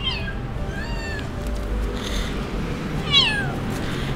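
An abandoned kitten on a street gives two high, drawn-out meows a couple of seconds apart, close by over a low hum of outdoor background noise.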